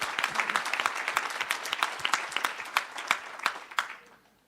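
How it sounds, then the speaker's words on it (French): An audience claps at an internal trophies ceremony, a brisk round of applause with distinct sharp claps standing out, steady for several seconds before quickly fading out. "On va l'applaudir quand même, bien sûr."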